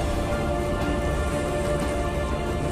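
Steady rain pours down during a spinning session for mackerel in stormy weather, a continuous dense hiss of drops on water and gear filling the whole stretch at an even, close level with no voices.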